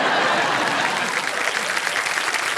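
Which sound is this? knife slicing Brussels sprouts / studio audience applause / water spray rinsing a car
studio audience applause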